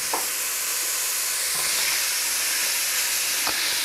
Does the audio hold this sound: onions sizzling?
yes